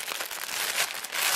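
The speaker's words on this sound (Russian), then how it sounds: "пакетике шуршащем" Crinkly plastic parcel bag from an AliExpress order, holding a polyester beach tunic, rustled and handled up close in steady crackling bursts for a moment, with no one talking.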